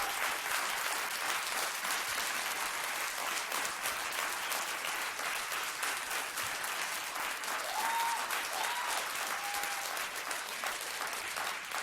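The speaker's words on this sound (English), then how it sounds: "if we can actually not applaud so that we can move on to the next comment" An audience at a school board meeting applauds a public comment, with sustained clapping from many hands that stays loud and steady the whole time.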